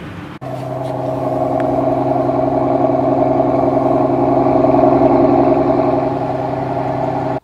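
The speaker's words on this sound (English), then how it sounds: "Now we can listen to the cold start of this engine." Cold start of a 2023 Mercedes-Maybach S680 V12: a catch as the engine fires, then a loud, steady high-idle drone held close for several seconds before cutting off abruptly.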